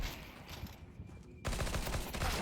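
Counter-Strike gunfire: steady rapid automatic shots crackle throughout, growing denser and louder in the second half, with no talk over them.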